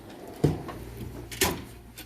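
A Snap-on tool box drawer slides open with two sharp metallic clacks about a second apart, close and fairly quiet, over faint background noise.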